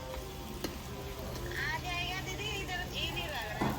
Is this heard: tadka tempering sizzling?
yes